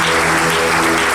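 A wedding congregation applauds in steady, dense clapping that fills the whole moment, loud and close with no voices standing out.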